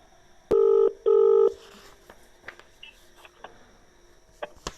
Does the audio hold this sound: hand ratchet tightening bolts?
no